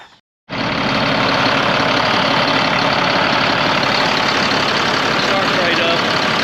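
A CAT C7 diesel engine in a school bus fires up after a brief pause and settles into a loud, steady, rumbling idle close by.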